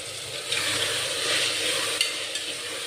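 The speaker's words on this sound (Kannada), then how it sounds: "ಅದು ಸ್ವಲ್ಪ ಹಸಿ ವಾಸನೆ ಇರುವವರೆಗೂ ಫ್ರೈ ಮಾಡ್ಕೊಳ್ಳೋದು" Ginger, garlic, curry leaves and coconut masala for egg biryani fry in a hot pan, giving a steady close sizzle with brief stirring scrapes and no voices.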